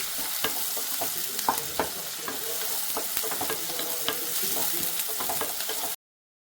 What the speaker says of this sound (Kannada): ಸ್ವಲ್ಪ ಸಾಸಿವೆ, ಕರಿಬೇವು, ಹಾಗೆ ಈರುಳ್ಳಿನ ಹಾಕೊಂಡು ಫ್ರೈ ಮಾಡ್ಕೊಳ್ತಾ ಇದ್ದೀನಿ.